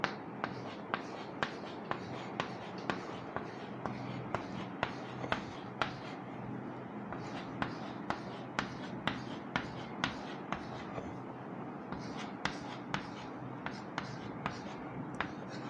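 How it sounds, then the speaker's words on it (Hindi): Chalk or marker writing numbers on a board, a long run of quick taps and short strokes in an uneven rhythm, close and moderately loud over a quiet room. "मैं वो भी आपको लिख के बताता हूँ"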